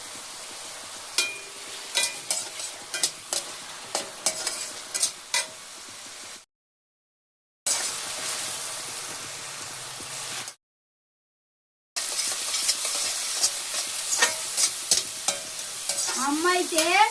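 Food sizzling and frying in a home kitchen pan while a utensil stirs and scrapes, sharp clattering strokes over a constant hiss, broken by two short silent gaps.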